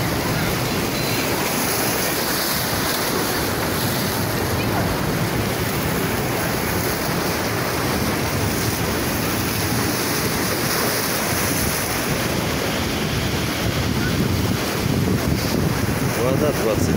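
Sea waves roll onto a beach at Lazarevskoye near Sochi, a steady, loud wash of surf mixed with heavy wind buffeting the microphone throughout.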